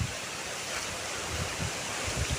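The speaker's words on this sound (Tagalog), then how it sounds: "may batis dito sa may baba niya" A small stream runs just below a rural spot where dishes are washed, giving a steady, close rushing of flowing water with no voices over it.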